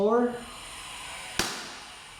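A single sharp, close crack from an HFC Glock 17 Gen 3 gas blowback toy pistol, fired right after a brief spoken word, then a short fading tail.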